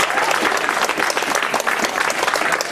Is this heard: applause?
yes